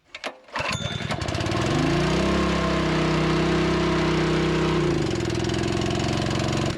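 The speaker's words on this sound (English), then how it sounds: "he's actually fixing a Honda engine on our seed tender right now" A small Honda engine on a farm seed tender sputters to life, revs up into a loud, steady running drone, then drops in pitch toward the end, with no talk over it.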